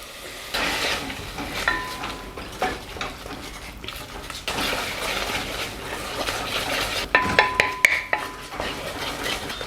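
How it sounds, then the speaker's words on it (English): Thick homemade gochujang sauce with pear juice is stirred in a pot, giving soft scraping and sloshing strokes with a low bubbling sizzle and intermittent metallic clinks of a spoon against the pot, close. "Stir really well so it wouldn't stick to the pot or burn"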